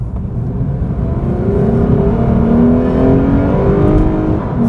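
A 2017 Lexus IS 350 F Sport accelerates hard in Sport Plus mode, its engine note rising steadily and loudly through the gears as the car pulls away on open road, with no talking.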